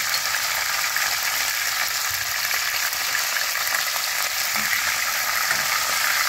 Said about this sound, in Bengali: ফুলকপিটা হালকা ফ্রাই করে নিই।